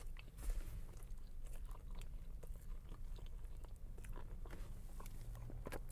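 Biting into a McDonald's snack wrap with cheese, lettuce and gold sauce gives soft, close chewing and crunching sounds, faint and irregular, with no talking during the chewing.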